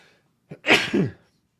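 A single sneeze, with a short sharp intake of breath and then an explosive burst, close and fairly quiet, followed by silence.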